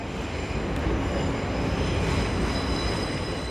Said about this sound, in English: 11:35 train to South East London